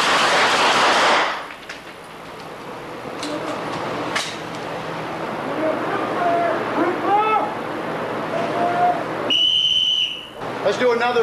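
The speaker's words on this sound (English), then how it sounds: "If I blow the whistle, don't do anything." A whistle is blown as a stop signal on a shooting range: one sharp, piercing blast about a second long near the end. A loud burst opens the clip, and faint background noise with talk fills the gap between them.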